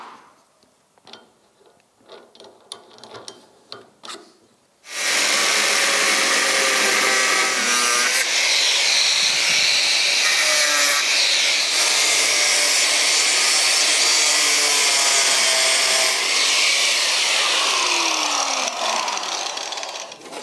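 Angle grinder with a thin cutting disc, about 1 mm, slicing through badly corroded bolts and nuts on the side steps of an old rusty vehicle; after a few light taps, a loud, continuous high-pitched whine kicks in and grinds steadily with slight pitch dips.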